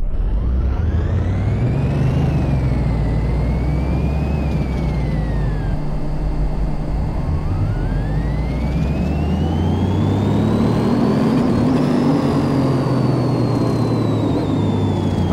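An M12 Warthog engine in Car Mechanic Simulator 2018 revs hard on a dyno, a loud continuous whine whose pitch climbs, dips between shifts and climbs again across the whole run.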